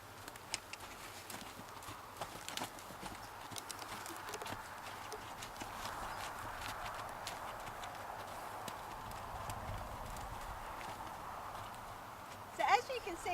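Hooves of a ridden horse clip-clop at a steady walking pace under a constant background hiss, faint and somewhat distant, with a brief louder knock near the end.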